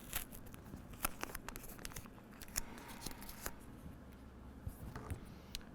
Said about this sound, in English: Fold this side back and peel away this tape as well